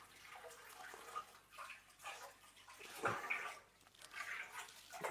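A pump refills a 300-litre aquarium with water, producing a continuous, soft rushing and splashing flow with faint bubbling and uneven swells in level, no talk heard.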